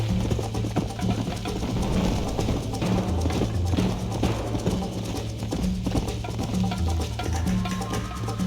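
Horse hooves clip-clop in Red Dead Redemption on an Xbox Series S, a steady, close rhythmic trotting with a constant low hum of game ambience underneath and no talking.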